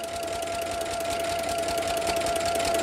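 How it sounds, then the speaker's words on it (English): A sewing machine runs a straight line of stitches, a close, steady high whine with a quick, even rattle of the needle mechanism that continues without a break. "So I'm going to just begin stitching."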